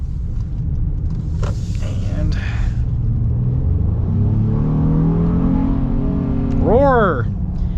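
A 2026 Honda Ridgeline Sport engine rumbles and climbs in revs, heard from inside the cabin and steady under a voice, with a brief rising whine near the end.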